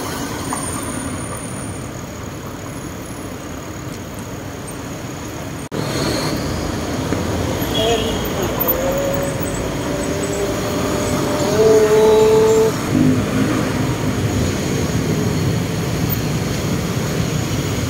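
A heavy MRT metro train rumbles past on an elevated rail over steady city traffic noise, with a rising tonal whine and brief screech as it goes by.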